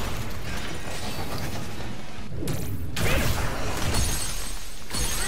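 A loud crashing shatter bursts out as a hard shell is smashed by a psychokinetic attack in Scarlet Nexus, followed by rumbling mechanical clatter and a second sharp crack near the end.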